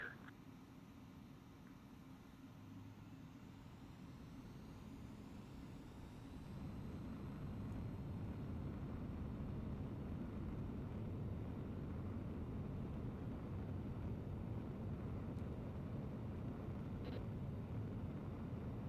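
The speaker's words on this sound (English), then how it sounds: "Spare 15, you are cleared for takeoff" A jet in Ace Combat 7 spooling up and taking off from an airstrip, a faint steady engine roar that grows louder partway through and holds as a continuous rushing hum.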